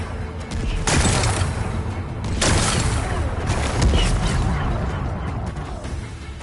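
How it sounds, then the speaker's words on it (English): Explosions blasting away rocks in Horizon Forbidden West, with heavy booming blasts and crashing debris over a dense, rumbling background, loud and close. "Gotta blast away some rocks, so I can expose the power cell."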